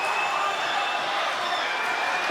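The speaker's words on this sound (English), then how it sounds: "The crowd are on their feet and the noise is absolutely electrifying" A packed arena crowd at an MMA event roars continuously, a dense loud wall of cheering noise with no breaks.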